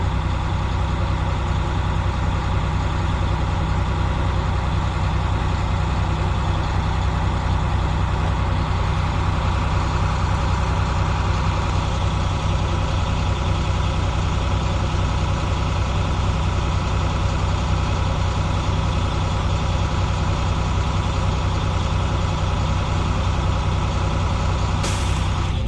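A 2008 IC CE 300 bus with air brakes runs at fast idle, its engine a steady, loud, continuous diesel drone throughout with no talking, and a brief faint hiss near the end.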